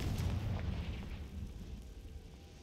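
A Confringo blasting spell explodes in Hogwarts Legacy as a low, rumbling boom with a burst at the start that fades into a sustained muffled roar, heard alone without speech.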